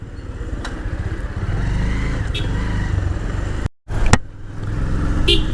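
A motorcycle in bad running condition drones steadily and loudly close by, its engine note rising slightly, cutting out for a split second, then resuming with a brief rev; no voices.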